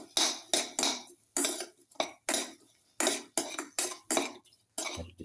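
A utensil repeatedly scrapes and clanks against a pan while a spinach rice casserole mixture is sautéed, about a dozen loud, evenly spaced strokes separated by short gaps, with no voices.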